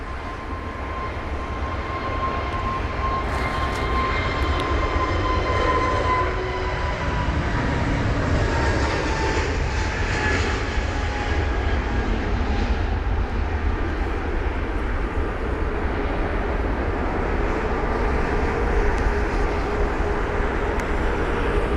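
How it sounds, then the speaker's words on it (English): A British Airways Airbus A320neo departing London Heathrow in wet, spray-filled conditions, a loud, sustained jet engine roar with a steady rushing wash that holds throughout at close range. "BA3784 departure now. It's off to Toulouse. It's going to be an Airbus A320neo of British Airways"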